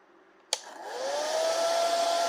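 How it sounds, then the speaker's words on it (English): A hair dryer runs off a Fisker Ocean's power outlet, clicking on sharply and then settling into a steady, struggling whir with a rising whine and broadband airflow hiss. "it's really struggling with the hairdryer."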